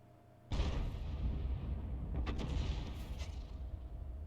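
A tank cannon fires a round in World of Tanks, one loud sudden boom followed by a long rumbling roar and a few sharp secondary cracks as the sound lingers.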